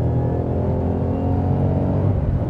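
A 2013 Shelby GT500 engine rumbles low and steady at close range, a dense, continuous throb that keeps going without a break.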